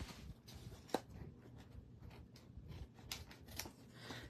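Scissors cutting a section of paper for a handmade greeting card at a craft table, a few quiet snips and soft paper rustles, close and faint with short pauses between cuts.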